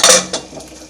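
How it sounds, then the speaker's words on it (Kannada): A metal pressure cooker lid being opened after cooking sweet pongal, a sharp loud clank followed by lighter metallic rattles and scrapes. "ಈಗ ಇದು ಕುಕ್ಕರ್ ಮುಚ್ಚಳ ತೆಗಿತಾ ಇದ್ದೀನಿ"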